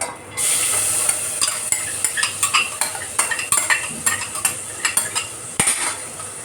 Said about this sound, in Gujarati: હવે હું આ દાળ છે એને વઘારી દઉં.